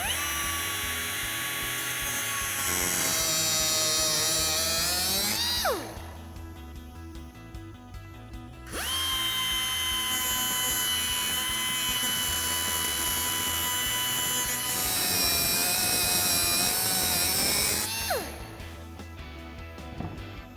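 A cutting wheel slices through steel studs during a Ford Bronco front leveling kit install, a loud high-pitched whining grind in two long passes separated by a brief pause, each cut ending as the tool spins down.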